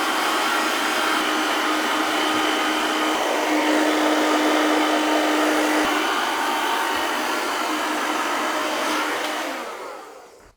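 Hair dryer blowing steadily on wavy hair during a medium-length gentleman's haircut, a constant loud whoosh held close for about ten seconds before it cuts off at the end, with no talking.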